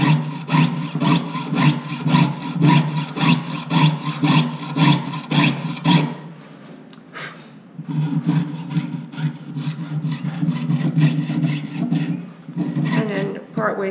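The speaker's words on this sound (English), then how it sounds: "Really precision cuts with this little blade." A small jeweller's saw blade cuts metal in quick, regular up-and-down strokes, loud and close, then slows into rougher, uneven rasping while turning in one spot.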